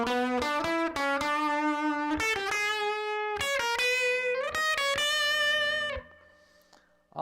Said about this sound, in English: all I'm doing is playing weird notes before I get to the chord tones that I want to hear.